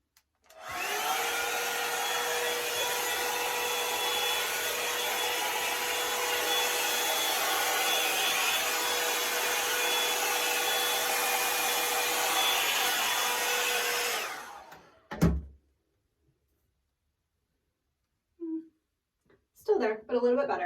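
A Revlon One-Step hair dryer volumizer runs through hair with a loud, steady blowing whir for about fourteen seconds, then cuts off, followed by brief bits of voice.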